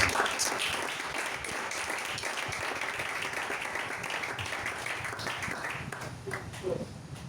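A church congregation applauds in acclaim of Jesus, with steady, moderately loud clapping throughout and voices speaking underneath.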